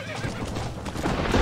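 A horse in the Red Dead Redemption western game gives a short, loud whinny over clip-clopping hooves, close and brief.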